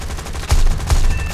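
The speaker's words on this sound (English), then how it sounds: "Got a bit of the cannon action there." An aircraft's 37mm cannon fires in the War Thunder combat game, three loud, heavy booming shots about half a second apart over a constant engine drone.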